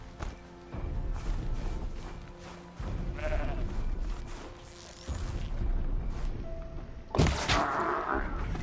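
A goat bleats in the snowy Frozen Wilds region of the video game Horizon Zero Dawn, with a few short bleats rising over quiet ambient game sound and occasional louder effects.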